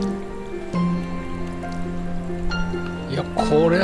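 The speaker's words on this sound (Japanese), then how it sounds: "あ、雨漏りしてる。" Rain leaking through a damaged roof at a station under repair in a video game, heard as a steady patter and drip with a layered game music bed, with a voice briefly rising near the end.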